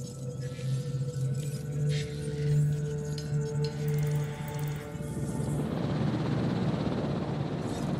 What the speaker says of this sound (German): Wo ist der RCU-Helikopter?